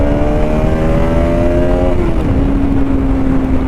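A TVS Apollo BS3 motorcycle engine revs hard outdoors in the rain, its high whine holding steady and then dropping in pitch, loud and close throughout.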